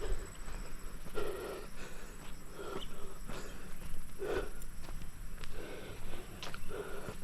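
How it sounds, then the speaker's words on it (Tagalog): Heavy, out-of-breath panting after a walk, rhythmic breaths close to the mic about once a second, with no talking. "Hingal ako."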